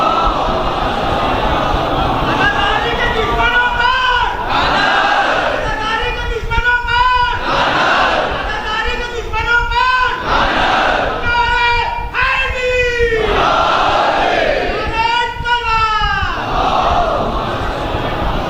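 A crowd gathered for a majlis at Imambara Ghufranmaab in Lucknow recites salawat in unison, voices rising and falling in several loud, drawn-out chanted phrases with brief gaps between them.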